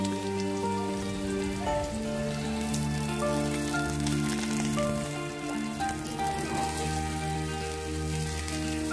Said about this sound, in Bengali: এবার তেলটা গরম করে আমি প্রথমে আলুগুলো ভেজে নেব।